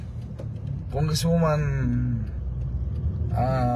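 Busy street traffic in Cabanatuan, a steady rumble of passing cars and vehicles close by, running under a voice that speaks over it throughout.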